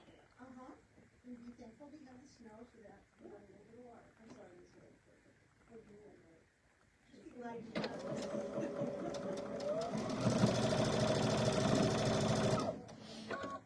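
A sewing machine stitches a quilted tabletop banner at a 1/4 inch seam, running steadily and close for about five seconds after a stretch where someone talks with no machine sound.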